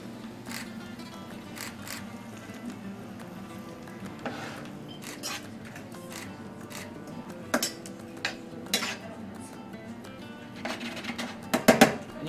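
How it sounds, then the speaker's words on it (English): A pan deglazed with wine, with a spoon or spatula scraping up meat char, seasoning and onion from the bottom, heard as steady sizzling, light metallic scrapes and clinks that grow sharper near the end, with no talk. "I'm going to deglaze the pan, get all of the char from the meat, the seasoning,"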